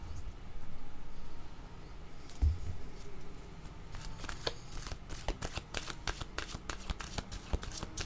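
Tarot cards are shuffled close by, first as a soft continuous riffle and then as a run of sharp, crisp card flicks and snaps. No one speaks.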